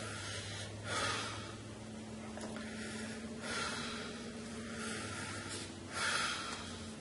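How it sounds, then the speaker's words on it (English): Deep breaths taken during a deliverance prayer service, several slow airy inhales and exhales in a steady rhythm, soft and close over a low background hum with no talking. "take three deep breaths"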